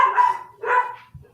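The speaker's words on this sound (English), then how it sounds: "I think the dog is protesting." A dog barks at someone at the door, two short, loud barks close by indoors with a brief low grunt after, no talking.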